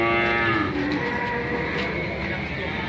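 Cattle at the Ambarketawang cattle market in a steady, dense wash of market noise, with a low moo drawn out early on and faint voices and bustle throughout.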